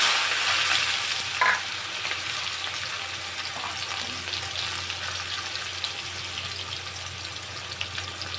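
Chili, whole cumin seeds and onion frying in hot oil in a pan, giving a steady close sizzle with a brief clatter near the start and no voices.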